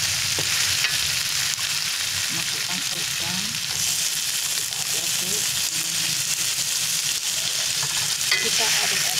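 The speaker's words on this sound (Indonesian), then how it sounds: "Kita memakai minyak, kita masukkan ayamnya." Chicken pieces sizzle and fry in hot oil in a wok for mixed nasi goreng, a steady dense hiss with scraping stir strokes throughout, close and continuous, with faint speech now and then underneath.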